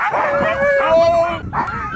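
Husky sled dogs bark and yelp excitedly on a sled dog run, with high howling whines and yips close by, loud and continuous over a short burst.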